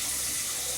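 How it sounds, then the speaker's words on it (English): Water pours steadily into a Vitamix blender jar for cleaning, a continuous close splashing gush with no voices. "put some water in it."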